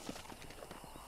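Horse hooves clip-clop at a steady walking rhythm with a brief whinny in the video game Red Dead Redemption, close and fairly faint, with no speech over it.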